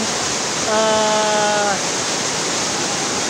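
Continuous broadband roar of a waterfall at Bulusan, Sorsogon, loud and steady throughout, with a brief faint tonal sound rising over the rushing water near the start.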